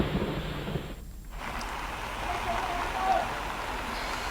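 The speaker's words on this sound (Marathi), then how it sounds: "पाऊस जरी रिमझिम असला तरी मात्र वारे जे आहेत ते वेगाने वाहत असल्याचं" Light drizzle with strong wind at Dadar Chowpatty beach in Mumbai, a steady broad wash of rain and gusty noise close to the microphone, briefly dipping then continuing at an even level.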